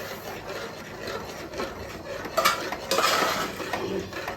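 A spoon or ladle stirs dill greens (sabbasige soppu) in a cooking pot, giving close scraping and clinking strokes that grow louder toward the end, with no voices.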